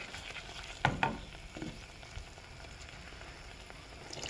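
Water goes into a pan of Chinese curry on the stove, giving a few sharp splashing bursts over a faint, steady sizzle that fades to a soft bubbling hiss.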